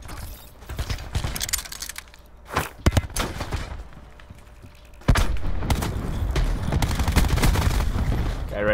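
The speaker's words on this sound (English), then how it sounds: "Someone just shot at me." Gunfire in the battle royale video game Call of Duty Blackout: sharp shots and bursts crack out in clusters, with a dense stretch of rapid fire near the end, mixed with footsteps and mechanical clatter.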